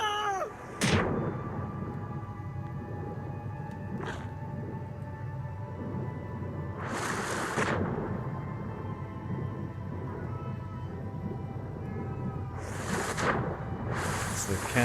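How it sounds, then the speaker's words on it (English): A house cat meows several times indoors, short bright calls spaced a few seconds apart, heard over a steady background hum. "Is the cat saying hello?"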